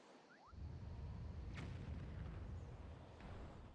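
A bomb goes off in The Legend of Zelda: Wind Waker, a deep rumbling blast that swells after a brief whoosh and sustains as a loud, low roar, with faint crackles layered on top.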